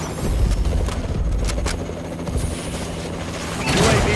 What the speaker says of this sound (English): Enemy recon drone detected.